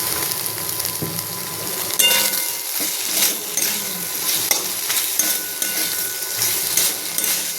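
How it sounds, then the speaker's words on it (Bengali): Okra frying in mustard oil in a pan, a steady bubbling sizzle punctuated by repeated metal spatula scrapes and clinks against the pan, close and fairly loud, no speech. "এটা আমি ভেজে নিচ্ছি।"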